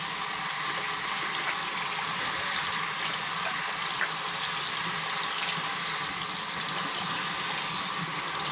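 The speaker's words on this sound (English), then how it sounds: "I'm going to wash my hands" Tap water runs in a steady, even gush into a kitchen sink as hands are washed under it, a close, constant splashing hiss with no talking.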